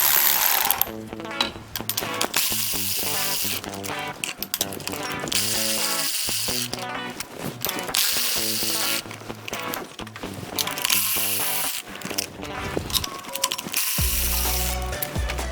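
A ratchet wrench clicks out spark plugs from a Jeep stroker engine, with repeated rapid ratcheting bursts close up, set against a dense, busy mechanical background throughout.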